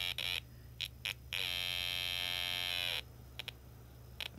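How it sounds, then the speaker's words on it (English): A Snap Circuits electronic kit with an adjustable resistor gives off harsh, tonal buzzes: short bursts, then one sustained buzz of about a second and a half, followed by brief clicks and blips over a low background hum. "the continuous buzzing sounds are only available over a narrow range on the adjustable resistor"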